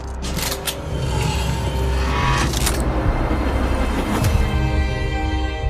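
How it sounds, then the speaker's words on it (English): A vehicle approaching in a war-film scene with military dog handlers, a steady engine rumble rising slightly with a few sharp bursts over it, fairly loud and continuous throughout. "Vehicle approaching."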